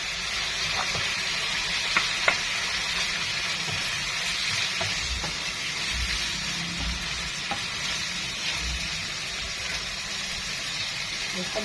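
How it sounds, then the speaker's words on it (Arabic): Chopped liver sizzling and frying in a pan with pepper and garlic, a steady close hiss with occasional stirring clicks and scrapes throughout. "واول ما الكبده ابتدت ان هي تغير لونها كده بالشكل ده، هنزل عليها بالفلفل"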